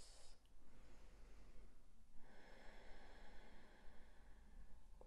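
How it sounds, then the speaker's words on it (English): Slow, steady breathing in and out through the nose, close and soft, during a guided yoga session, with a long airy inhale giving way to a fuller exhale about halfway through. "And just breathing in and out through the nose."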